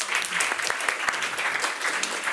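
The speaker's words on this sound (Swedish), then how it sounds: "En rejäl applåd för allihopa." A hall audience applauds as a panel forms for a Swedish election debate on education and research, a dense wash of clapping from many hands heard at moderate distance throughout.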